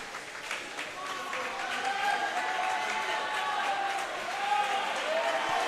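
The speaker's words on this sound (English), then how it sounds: "these Pirates are really cheering on their teammate" Spectators cheer on a swimmer at a boys' swim and dive meet, Hoffman versus Palatine, with a steady crowd roar of shouts and clapping that echoes in the pool hall and swells near the end.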